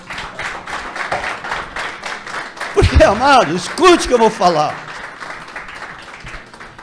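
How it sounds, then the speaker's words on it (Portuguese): A church congregation breaks into applause, a steady patter of many hands clapping while a preacher speaks loudly in Portuguese over it. "Aplaudam Jesus."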